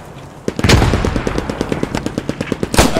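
Rapid automatic gunfire in a World War II shooter game, opening with a loud burst, then an evenly spaced string of sharp shots and a heavier blast near the end.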